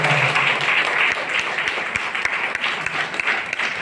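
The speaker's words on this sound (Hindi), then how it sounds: "एक जोरदार ताली" Audience applause at a wellness company business seminar, a dense steady clapping wash lasting a few seconds with individual claps poking through, fairly close and without talk.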